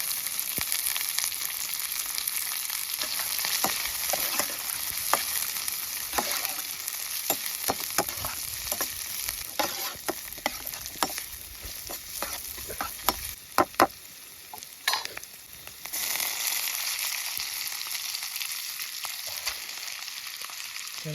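Cabbage, capsicum and onion stir-fried for noodles on a camping stove, a steady close sizzle and frying hiss broken by frequent scraping and tapping of the stirring spoon, briefly quieter before the sizzle resumes.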